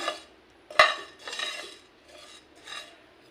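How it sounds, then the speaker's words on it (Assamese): A utensil stirs spices frying in a pan for an elephant apple pickle: a sharp metal clink, then several scraping strokes, close and fairly quiet with no talk. "এইদৰে লৰাই থাকিব লাগিব মাজে মাজে।"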